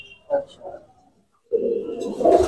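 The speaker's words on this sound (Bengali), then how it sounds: "এই একটা পায়রা জোড়া দিচ্ছি, এটা হচ্ছে আমাদের বেলাদের পায়রা" Pigeons kept as a pair in a loft coo in short, close, soft bursts, a brief one first and then a longer, louder rolling coo, with a voice faintly underneath.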